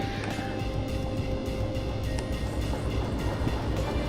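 Game rumble of a DE6 diesel locomotive pulling ahead in Derail Valley, a steady low engine drone with faint rail clatter, continuous and moderately loud with no talk.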